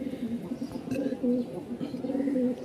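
Small pigeons coo in repeated low, rolling phrases, close by and fairly clear, with faint background noise and a little chirping.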